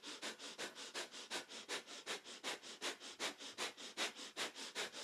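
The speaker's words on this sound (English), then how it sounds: "Now we're going to close this sequence with a quick blast of breath of fire." Breath of fire yoga breathing, a fast even run of forceful nasal exhalations, roughly four per second, close and alone.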